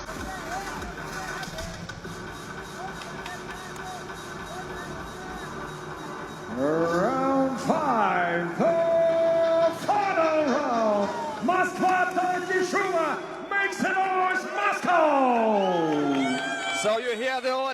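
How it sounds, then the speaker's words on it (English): A UFC arena crowd cheers and shouts for Arman Tsarukyan in his bout with Patricky Freire, a steady roar that swells into louder bursts of whoops and bellows under continuous talk in the foreground. "you hear the crowd cheering and shouting for Arman Tsarukyan"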